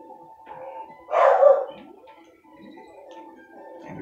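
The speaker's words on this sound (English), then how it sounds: "There goes Oscar barking." A dog barks in the video game Donkey Kong Country 2, one short bark burst near the middle over soft background game music and ticking sounds.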